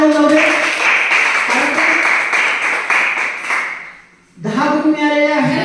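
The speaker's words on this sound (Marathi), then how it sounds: "जोरदार टाळ्या होऊन जाऊ दे" A crowd of schoolchildren and adults claps loudly for a correct answer at a school quiz competition, a dense burst of applause that fades out near the end before a second round of clapping starts up.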